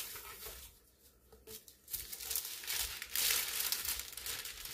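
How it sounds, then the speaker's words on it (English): Crinkly cellophane cello wrap being folded around a homemade letter-shaped candy board, close crackling and rustling that builds louder in the second half. "So now I'm going to wrap it in some cellophane on both ends"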